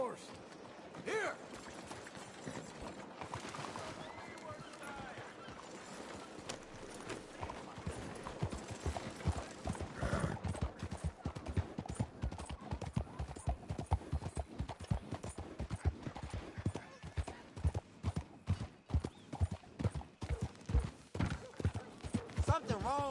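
Horse hooves clip-clop steadily in the video game Red Dead Redemption, starting sparse and growing into a louder, faster rhythmic gait, with a brief whinny and a voice speaking in between.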